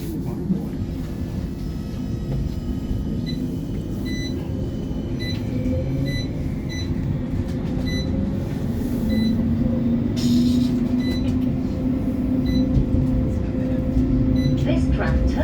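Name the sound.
West Midlands Metro tram departing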